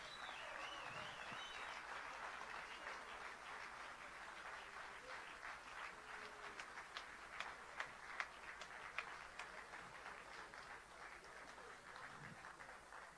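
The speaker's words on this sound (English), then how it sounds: "Come on, give us a proper round of applause." A lecture audience breaks into sustained applause after a powerful talk by PLO Lumumba, a steady, crowded clatter of many hands that stays fairly even throughout, heard from a distance and fairly quiet.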